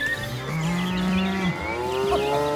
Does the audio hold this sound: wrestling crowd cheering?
no